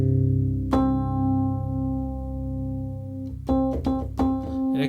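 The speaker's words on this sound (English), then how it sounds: "Electric piano sound." A Yamaha DX7 synthesizer plays an electric piano patch: a low sustained note rings, then a chord is struck, followed by several more chords in quick succession, clean and alone with no talk.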